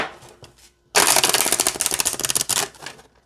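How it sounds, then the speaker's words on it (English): A stiff deck of oracle cards is riffled and shuffled in a dense, rapid flutter of papery snaps, loud and close, after a few quieter handling taps. "this shuffles really nicely"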